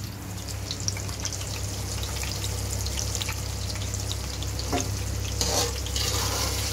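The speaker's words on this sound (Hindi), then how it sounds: "ये बादाम जैसे थोड़े से रोस्ट हो जाएंगे" Almonds roasting in a pan for Kashmiri biryani, giving a steady close sizzle with faint scattered crackles and stirring scrapes over a constant low hum, with no talking.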